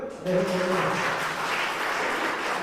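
Applause from an audience at a church leadership training session, a burst of clapping that starts abruptly and continues steadily at moderate volume.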